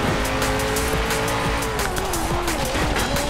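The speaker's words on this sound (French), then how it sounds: "première course avec la Koenigsegg Regera. Et déjà, ça patine pas mal dès le début" Koenigsegg Regera in the Forza Horizon 3 racing game spinning its wheels at a race start, a loud steady engine roar with rising pitch and continuous tire squeal throughout.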